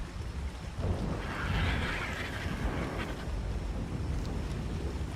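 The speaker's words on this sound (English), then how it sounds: "It has been raining, thunderstorming ever since we left." Steady rain and rumbling thunderstorm ambience in ARK: Survival Ascended, a continuous low roar with a swelling rumble near the middle, with no talking.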